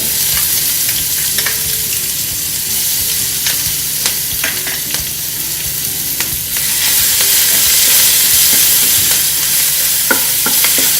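Green chilli paste sizzles loudly in hot oil in a pan, a steady close frying hiss with scattered clinks and scrapes of stirring, growing a little louder partway through.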